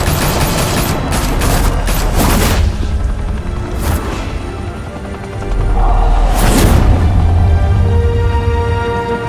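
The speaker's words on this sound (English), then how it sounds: "Open fire!" Gunfire in Batman: The Telltale Series video game, loud bursts of shots and booms in clusters, with a heavy rumbling barrage swelling in the second half.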